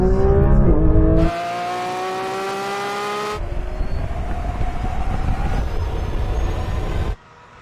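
Porsche 911 GT3 RS, Lamborghini V12 and Tesla launching in a drag race: loud engine roar with rising revs and gear-shift cuts, then a broad rushing drive noise that stops abruptly.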